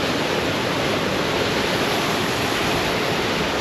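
A steady, dense roar of Paradise Falls in the Bighorn Mountains, constant and fairly close, with no other sounds over it.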